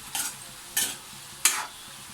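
Sweet potato slices fry in hot oil and are stirred, giving three short bursts of scraping sizzle spaced evenly apart, close and fairly quiet, with no talking.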